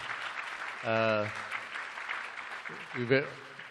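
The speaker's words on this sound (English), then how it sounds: "let's give another round of applause" Audience applause at a panel on women shaping the global economy: a steady wash of clapping runs throughout, with voices speaking briefly over it near the start and again toward the end.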